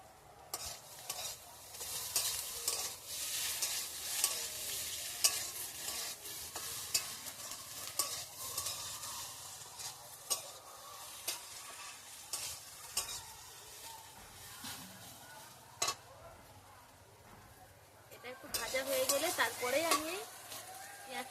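Green chillies and chopped tomatoes frying and stirred in a pan for egg bhurji, a soft sizzle under repeated scraping stirs and clicks, growing livelier toward the end.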